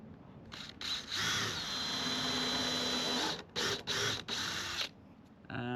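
Cordless drill boring pilot holes into timber for a shed base, several high whining bursts of varying length with short stops between, close and fairly loud.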